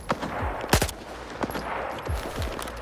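Gunfire in S.T.A.L.K.E.R. 2, a string of sharp, loud shots cracking at irregular intervals over a steady background hiss, some in quick pairs, with no voices.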